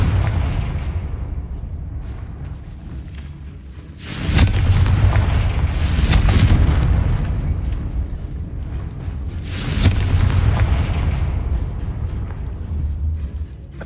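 Confringo fire spell blasts in the video game Hogwarts Legacy, three loud booming explosions spaced a few seconds apart, each with a crackling burst and a rumbling tail over steady low game ambience.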